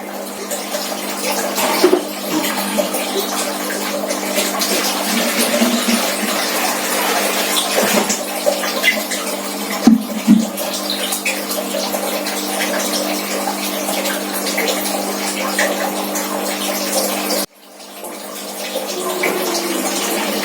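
Water taken from a lobster pond pours steadily into a gallon container used for raising catfish, a continuous rushing splash that holds up for the whole stretch with one brief break near the end.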